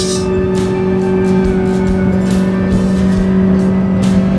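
A Kawasaki Ninja ZX4R motorcycle engine drones loud and steady while riding at a constant pace, with rushing wind noise and no speech.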